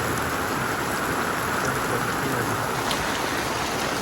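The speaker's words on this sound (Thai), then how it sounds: "น้ำที่ฝนตกตอนนี้ก็จะไหลเข้า สระน้ำครับของลูกค้าแล้ว" Heavy rain pours down on an outdoor construction site by a customer's pool during welding work, a dense, steady hiss of drops drumming on surfaces that stays loud and unbroken throughout.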